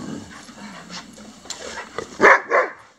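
Dogs pant softly up close, then let out two loud barks near the end.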